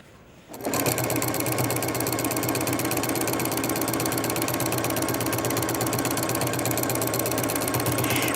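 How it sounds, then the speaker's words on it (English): A sewing machine starts up and runs steadily, sewing a side seam on a tote-style diaper bag, with a fast, even mechanical clatter that lasts to the end without talk. "Place it back underneath the presser foot, and sew the side seam."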